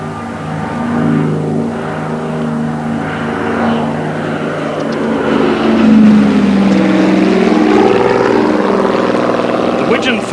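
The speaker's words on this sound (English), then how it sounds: "Graceful newcomer to the display scene is the Grumman Widgeon" Grumman Widgeon amphibious propeller aircraft flying at an air display, its droning engines swelling and shifting in pitch as it passes, loud and continuous with a commentator talking over it.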